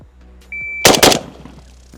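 A rifle shot, from an AK-47 or an AR-15, cracks out once, loud and sharp, followed by a second burst close behind. A faint electronic beep comes just before and short echoes trail away.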